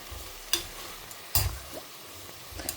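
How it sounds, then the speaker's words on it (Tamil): Spices and two bay leaves sauté in oil in a pan, a soft steady sizzle with two sharp clacks of a spoon against the pan and light stirring scrapes. "ஒரு செகண்ட் வதங்கட்டும்."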